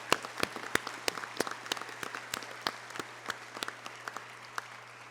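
A graduation ceremony audience gives a sparse, scattered round of applause; individual hand claps pop out distinctly at irregular intervals, fairly quiet and somewhat distant, with no one speaking.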